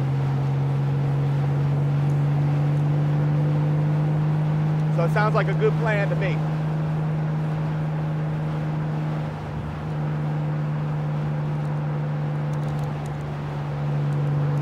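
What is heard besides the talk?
motorcycle riding at highway speed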